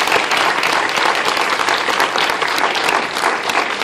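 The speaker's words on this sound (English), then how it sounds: "Applause for Inside Llewyn Davis" Theatre audience applauding after a film screening in Philadelphia, dense steady clapping from a large crowd, loud and continuous throughout with no pauses.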